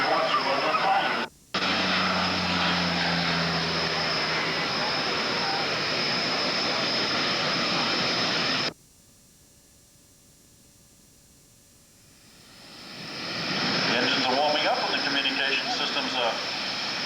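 A commercial airliner departs past an airshow crowd at Redding, its loud, broad jet roar holding steady and then breaking off abruptly before a second engine roar swells back in, with no talking.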